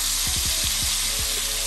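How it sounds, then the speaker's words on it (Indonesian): A blended spice paste with lemongrass hits hot oil for duck gulai, giving a loud, steady sizzling hiss with a few quick low knocks near the start. "minyaknya udah panas, kita akan masukkan bahan-bahannya tadi"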